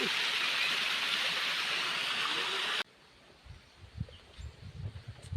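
A forest waterfall roars steadily, then cuts off abruptly to a quiet outdoor background with faint rustling and light knocks.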